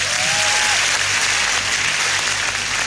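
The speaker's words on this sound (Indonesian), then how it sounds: "Tepuk tangan buat dia" Stand-up comedy audience applauding a comedian, a steady loud wash of many hands clapping with no break for the whole stretch, a brief voice rising faintly over it.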